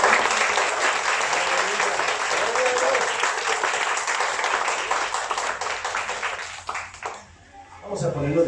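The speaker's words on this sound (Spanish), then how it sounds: "Démosle un aplauso al Rey de Reyes" A church congregation applauds loudly and steadily for about seven seconds at a Spanish-language service, the dense clapping dropping away near the end before a voice starts to speak.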